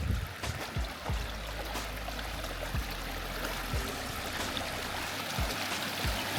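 Small stream flowing after a landslide in Dickwella, a continuous close trickling and gurgling of water with occasional low knocks, moderately faint and with no voices.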